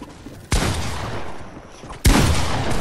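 Gunfire in the Fortnite video game: two sharp, loud shot bursts, one early and one about a second and a half later, each trailing into a sustained noisy rumble, with no talk.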